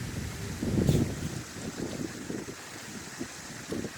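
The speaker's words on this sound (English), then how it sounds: "Sorry, the wind's kind of blowing my camera." Outdoor wind buffeting a camera microphone, low rumbling gusts that swell loudest early on and then continue in softer bursts, with no speech.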